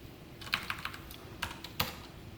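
Code typed on a computer keyboard, heard as short runs of quick, light key clicks and a couple of firmer single taps over a quiet room hiss, near and soft, with no voice.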